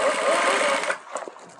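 Industrial sewing machine stitching a side pocket on a garment, running in one loud, close, buzzing burst that then stops, followed by soft handling noises.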